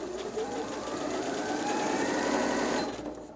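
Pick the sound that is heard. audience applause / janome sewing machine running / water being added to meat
janome sewing machine running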